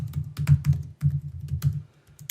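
Someone types on a computer keyboard while entering text into an Excel spreadsheet, producing close, crisp keystroke clicks in irregular short bursts with brief pauses between them.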